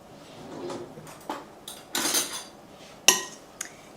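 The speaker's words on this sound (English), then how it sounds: "I'm going to give that a stir." A utensil stirs a pan while a vegan zucchini dish is cooked, giving a few short, separate bursts of clinking, scraping and knocking metal, nearby and loud, with brief quiet gaps between them.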